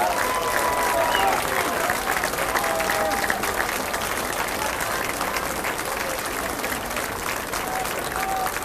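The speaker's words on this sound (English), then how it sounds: "A big round of applause, ladies and gentlemen." Sustained audience applause and crowd noise at the close of the Murphys Irish Days street parade, an even, steady wash of clapping lasting throughout with faint voices mixed in.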